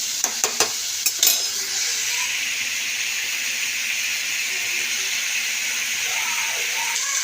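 Oil lightly frying in a pan, a loud continuous sizzle and hiss after a few quick utensil knocks at the start.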